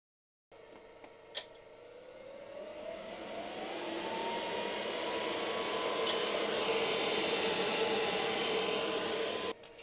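xTool F2 laser engraver working on a slate coaster, its steady fan and motor whir rising gradually and holding nearly constant for about nine seconds, with a brief click near the start and no talking.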